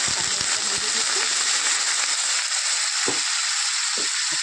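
Egg frying in a pan with jackfruit curry, giving a steady, loud hiss with brief spatters and clinks throughout.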